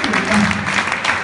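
An audience applauding at an event honouring a guest, a dense, close burst of clapping with voices mixed in.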